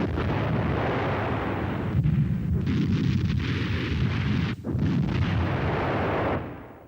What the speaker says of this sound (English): Support for the Fallschirmjager is being provided by a battery of 17cm K-18 heavy guns.